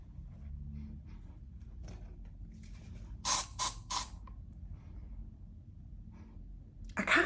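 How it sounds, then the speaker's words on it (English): A room spray gives three short hissing bursts in quick succession and a final burst near the end, close and sharp against a quiet room with faint rustling. "But I like having a room spray sometimes."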